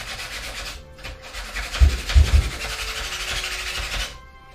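Sandpaper rubbing over a 3D printed Buster Sword, repeated close scratchy strokes of varying pressure, with a few heavier knocks midway.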